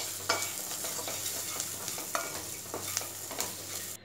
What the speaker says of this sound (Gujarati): બરાબર મિક્સ કરી દઈશું. હવે ગેસની ફ્લેમ ઓફ કરી દઈશું